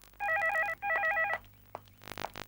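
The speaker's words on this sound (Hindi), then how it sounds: "कोई फोन क्यों नहीं उठा रहा है?" A telephone rings unanswered in a 1990s Indian detective-drama setting, two quick warbling bursts of electronic ringing, fairly close, followed by faint shuffling.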